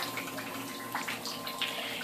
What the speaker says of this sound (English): And then the water just returns back down into the fish tank.